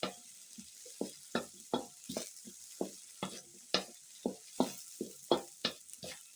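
Carrots stirred in a cooking pot over a village fire, a spoon scraping and clacking against the pot in a steady rhythm of distinct strokes, close and moderately loud with no voices.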